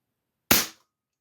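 A FAS 604 Mk2 single-stroke pneumatic .177 single-shot target air pistol fires once, giving a single short, sharp, close pop that decays quickly into silence.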